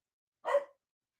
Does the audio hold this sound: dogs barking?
yes